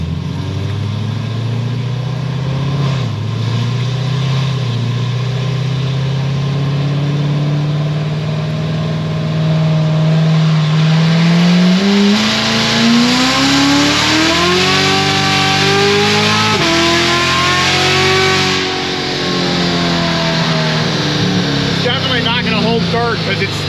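Corvette C7 Z06 engine on a dyno, running on a stock tire with octane booster, roaring loudly as it revs up through the gears, with the pitch climbing and dropping at each shift under a constant rumble.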